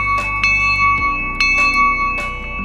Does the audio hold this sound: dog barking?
no